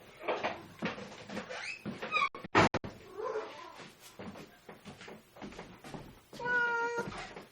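A pet cat named Cookie meows in a kitchen during peanut butter cookie prep, with a clear harmonic meow near the end, following a door thump and clatter and scattered household noises.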